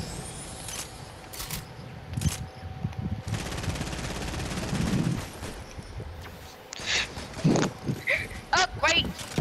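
Bursts of automatic gunfire from a purple-rarity weapon in Fortnite, sharp volleys separated by short pauses and growing more frequent near the end, heard beneath frequent talking by a player.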